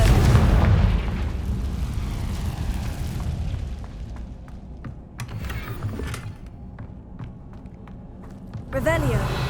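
A Confringo fire spell in Hogwarts Legacy bursts with a deep, heavy boom that rolls and decays into rumbling debris, then scattered crackles and footsteps before a second burst near the end, with speech present.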